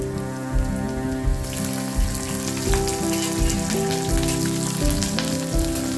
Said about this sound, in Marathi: कढीपत्ता आणि लसूण छान परतून झाल्यानंतर यामध्ये आपल्याला हिरवी मिरची टाकून घ्यायची आहे